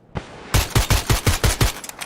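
Rapid automatic gunfire in a shooter video game during a ranked match: about eight sharp, loud, evenly spaced shots after a single opening shot, close and with no talking over them.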